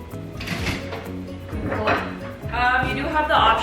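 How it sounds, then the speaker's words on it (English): A lid set onto a pot of simmering beef and vegetable soup, giving a few close metallic clinks and knocks amid kitchen handling noise, with a voice talking over it. "You want to put the lid on."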